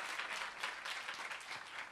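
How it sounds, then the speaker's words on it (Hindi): A church congregation applauding together to thank the Lord, a steady, dense wash of clapping heard from a distance and fairly faint throughout. "ताली बजा के प्रभु का धन्यवाद करेंगे"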